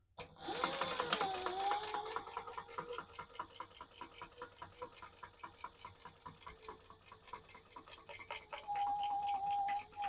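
A domestic sewing machine top stitches the wings of a crossbody bag piece, running in a steady rapid ticking rhythm for about ten seconds, close and fairly loud, with a slight pause and speed change midway.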